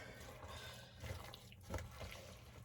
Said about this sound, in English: I'm going to add some water to this to get it kind of a soupy mixture